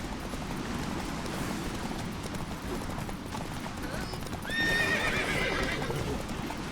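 Horse galloping in The Witcher 3 during mounted combat, a steady dense run of hooves with a whinny rising near the end, under game noise and spoken voices.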